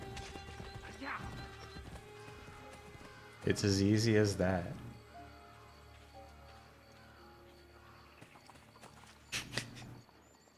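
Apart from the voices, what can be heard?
horse hooves clip-clopping in video game Assassin's Creed Brotherhood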